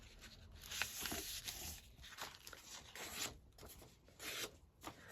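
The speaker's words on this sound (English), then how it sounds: "I'm going to just cut it down to sort of rough size" Scrapbooking paper being cut down to rough size, with soft irregular rasping and rubbing strokes close by, quiet and uneven over several seconds with no talking.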